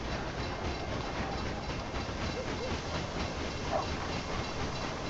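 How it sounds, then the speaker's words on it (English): Train in the game Railway Empire rolling past as a steady, continuous rumble with clattering wheels and a faint hiss, heard alone throughout. "Here comes another train."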